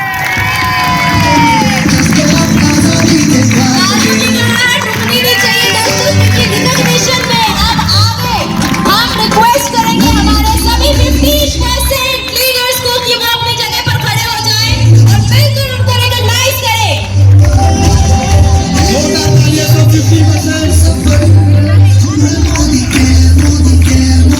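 A large stadium crowd at Talkatora Stadium cheers, whoops and shouts loudly and without letup, with applause mixed in and a voice speaking over the din.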